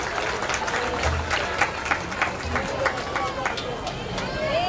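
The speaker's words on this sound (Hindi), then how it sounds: "जोर से तालियां बजाएं उनके लिए प्लीज" Steady applause from a crowd, dense overlapping claps with murmuring voices underneath, continuing throughout.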